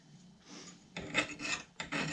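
Hand file sharpening an axe edge, a few short, close rasping strokes separated by brief pauses, quiet and alone.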